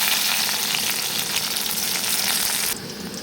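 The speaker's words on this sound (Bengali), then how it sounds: "পেঁয়াজটা হালকাভাবে ভাজা হয়ে গেছে" Loud, dense sizzle of onion frying in mustard oil, continuous and close, easing slightly toward the end.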